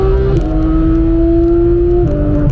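Porsche 996 GT3 flat-six engine at the Nürburgring, a loud steady drone with a strong held tone that steps down briefly then settles as the car cruises, continuous and close with no talk.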